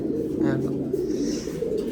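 Pigeons in a loft coo steadily nearby, a low, continuous throaty rumble that carries on throughout while someone talks over it.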